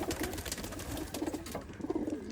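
Pigeons in a breeder's loft coo in a busy chorus, several low rolling calls overlapping steadily and close by, with no talk.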